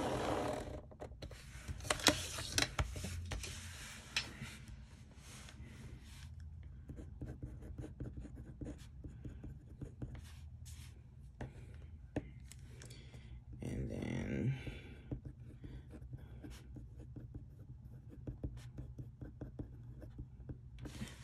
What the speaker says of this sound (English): I'm going to just draw lines for myself here.